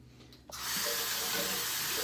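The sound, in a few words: tap water rinsing face after shaving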